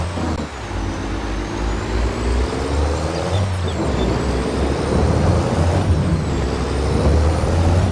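Truck with air brakes in Farming Simulator 22, a loud continuous engine drone with rising and falling gear tones and hissing air-brake releases, close and without talk.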